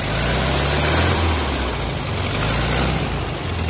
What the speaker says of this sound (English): Looks like the idle is set a little low.